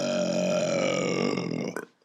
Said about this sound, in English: In the silence that followed, he let fly a tremendous belch.